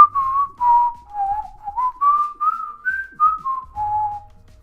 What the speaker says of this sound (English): I'm going to try to whistle a bit.